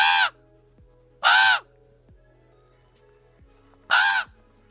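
A two-month-old pet raven gives three loud, harsh caws, spaced a second or more apart and close by, with a quiet background between calls.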